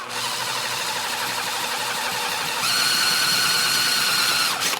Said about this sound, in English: It's not often you get to drill holes in motorcycles.